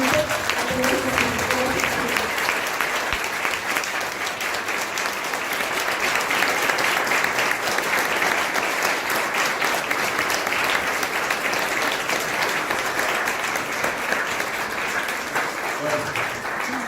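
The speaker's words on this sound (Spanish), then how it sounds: "vamos a darle un fuerte aplauso energético" Steady, sustained applause from a large seated audience at an organizational culture talk, even and unbroken for the whole stretch with no one speaking.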